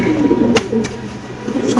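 An exhibition pigeon in a home loft gives a low throaty coo, close and fairly loud, with a few sharp clicks breaking through over less than two seconds.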